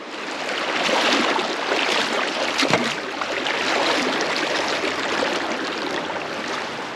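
Water-sneakered feet wade across a shallow rocky stream amid loud, steady rushing water, with splashing and sloshing close by throughout.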